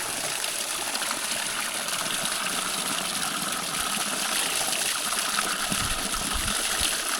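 Clear water flowing down from a mountain near a remote forest village, a steady close rushing and trickling stream that continues evenly throughout with no voices.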